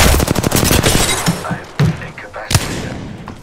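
Gunfire in a tactical online shooter: rapid automatic bursts crack close and loud, then break into a few heavier single shots. A player's voice comes through briefly amid the shooting.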